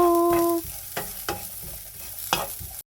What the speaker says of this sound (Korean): 프라이팬이 달궈지면 기름을 두르고 당근 올리고 소금을 솔솔솔 뿌리고 볶아주세요